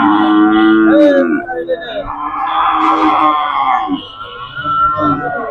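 A heifer calf and other cattle at the Charabhita cattle market in Jashore moo loudly and nearby, with long drawn-out calls, while people talk over the market bustle.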